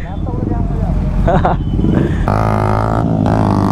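A new superbike motorcycle rides off with a loud engine note that climbs into a steady revving drone, close and continuous, while people talk over it.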